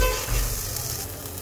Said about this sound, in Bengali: 2-1 মিনিট এটাকে একটু কষাবো।